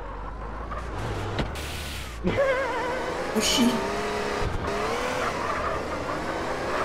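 Car engine and tire squeal in a video game, with a revving motor and a sharp skid as the car pulls away, while someone talks and exclaims over the action.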